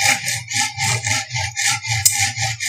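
A hand saw cuts through wood along a marked line for a cross joint, with close, loud, rhythmic rasping strokes at a steady back-and-forth pace, about seven strokes with no talking.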